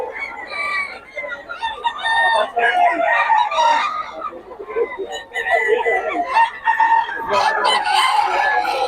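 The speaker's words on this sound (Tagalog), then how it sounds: "Napakamura ang mga manok ni Boss Gaga." Several roosters crow loudly and overlapping, with hens clucking in between, a busy close-up flock sound lasting throughout.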